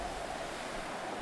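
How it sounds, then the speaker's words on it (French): Wind blows steadily in the survival game The Long Dark, a constant broad rushing hiss with a low rumble and no talk over it, sounding like a fairly loud, unbroken gust across open snowy terrain. "Il y a un bruit de fou, hein. Beaucoup de vent."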